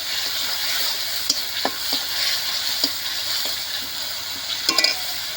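Ground cumin, coriander and dried red chilli masala fries in a pan for fish kalia, with a steady hiss and sizzle, a few sharp spatula scrapes and taps and a small cluster of clinks near the end, no voices.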